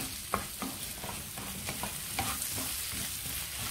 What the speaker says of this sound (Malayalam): ചെറുതായി കട്ട് ചെയ്ത 2 തക്കാളി ചേർത്ത് കൊടുക്കാം. തക്കാളി 2 എണ്ണം നന്നായി വഴറ്റിയെടുക്കാം.